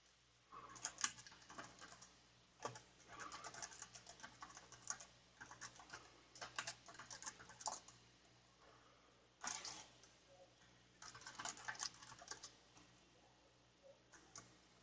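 Fingers type on a computer keyboard in quick, uneven bursts of soft clicking, pausing briefly between runs, faint and close by with no talking.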